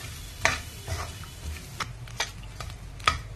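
Grated coconut and bansi rava are dry-roasted in a pan over medium heat. A spatula scrapes and taps against the metal in irregular light strokes over a soft, low crackle, with no talking.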